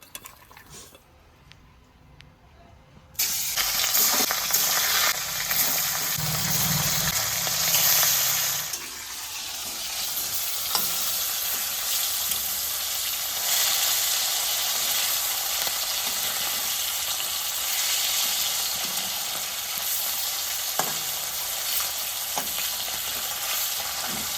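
Hilsa fish, salted and coated in turmeric, fries in hot oil in a wok over a gas flame, a loud steady sizzle that starts abruptly after a quiet opening and continues with occasional stirring clatter.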